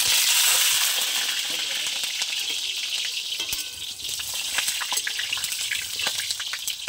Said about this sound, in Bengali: তো এবার আলুগুলোকে আমি ভেজে নেব।